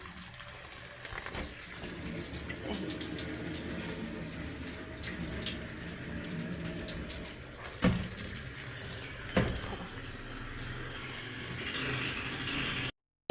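Starchy grains being rinsed under a running kitchen tap, a steady close gush of water with a few splashes and clinks, continuous and untalked-over.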